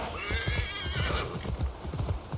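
A horse in Assassin's Creed Valhalla whinnies loudly over a steady run of hoof clip-clops, the neigh falling away midway while the rhythmic hoofbeats carry on to the end.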